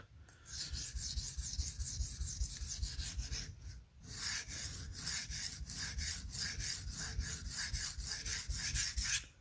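Spyderco Parata knife blade drawn across a sharpening stone in repeated rhythmic rasping strokes, close and fairly loud, with a brief pause near the middle before the strokes resume faster.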